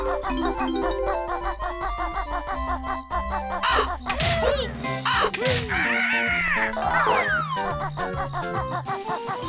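Game sounds of birds cawing in the Click Clock Wood level of Banjo-Kazooie, a dense layer of crow-like caws and squawks over continuous level music, loud and busy throughout.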